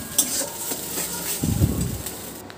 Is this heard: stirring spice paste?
yes